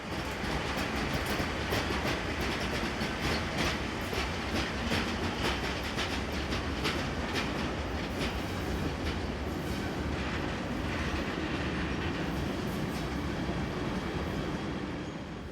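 A Swiss Re 6/6 Class 620 electric locomotive passes at Brugg with its train, a loud steady roar of wheels and rhythmic clickety-clack over rail joints throughout.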